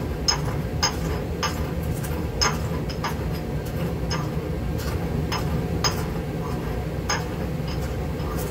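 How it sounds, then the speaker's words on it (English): Potato chips being ground with hexane in a mortar and pestle, giving a steady run of light clinks and ticks over a low background hum. "I'm going to continue to grind up my potato chips"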